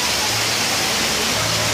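Waterfall with running water along a channelled stream in Siloé, Cali, a steady broadband rush filling the whole clip at close range with no pauses or voices.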